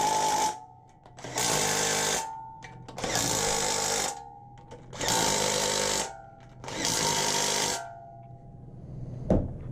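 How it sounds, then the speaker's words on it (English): An impact wrench tightening bolts on the bottom end of a 6.0 LS engine, firing four loud, close bursts of rapid hammering, each about a second long, separated by short pauses. "am going to give them all the beans the impact has"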